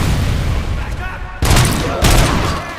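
Gunfire rings out in the RoboCop: Rogue City shooter, loud booming shots in sudden bursts amid a continuous combat din, with a voice shouting over the action.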